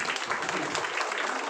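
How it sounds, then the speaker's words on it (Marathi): A crowd of people at a hosted stage event breaks into steady, dense clapping, a continuous loud wash of hand claps with no pauses, with some voices mixed in. "टाळ्या वाजवूयात"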